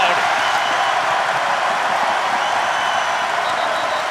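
A stadium crowd at a college football championship game, UCF at Tulane, keeps up a loud, steady roar of cheering and applause throughout, with no break in the noise.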